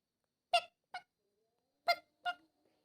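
A cartoon duckling calling, four short nasal honk-like quacks in two pairs, clear and close against silence.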